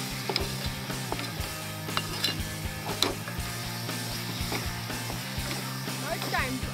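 A spoon stirring mango pulp in a pan while making Konkan coconut vadi, giving a steady scraping and clicking rhythm with a soft sizzle underneath and nearby talk.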